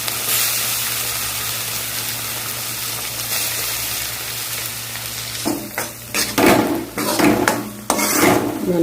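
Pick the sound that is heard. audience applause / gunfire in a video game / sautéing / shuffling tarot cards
sautéing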